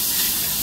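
Meat sizzles on a hot grill at a Japanese restaurant in Turkey, a constant loud crackling hiss at close range with no voices.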